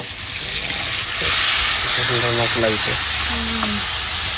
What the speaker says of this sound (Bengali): মশলা ভালো মতন ভাজা গেছে, তেল উপর দিয়ে সাইডে গেছে না